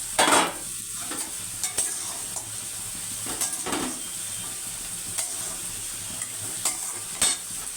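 Fish simmering in an onion curry (vhola macher jhal) gives off a steady close sizzle, while a utensil scrapes and taps the pan in uneven strokes, with no voices.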